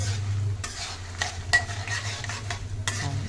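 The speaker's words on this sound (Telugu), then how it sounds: "చూడండి ఎంత బాగా వేపుతున్నానో చూడండి" Lentils frying and being stirred in a pan while making a moringa-leaf pickle: a steady close sizzle with repeated scraping stir strokes, no talk.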